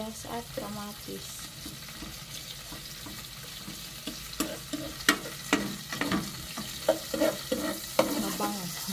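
Garlic, onion and tomato sautéing in a pan for ginisang monggo (mung bean stew): a close, steady sizzle broken by sharp clinks and scrapes of a spoon stirring, growing busier toward the end.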